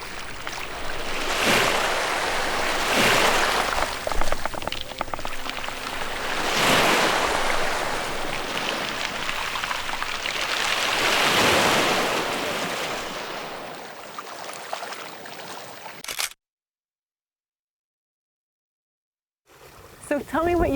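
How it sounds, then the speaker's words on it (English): Waves rolling in and washing over round mongdol beach pebbles, a loud close surge and rattling hiss that swells and recedes in slow repeating cycles before briefly cutting to silence. "몽돌 소리."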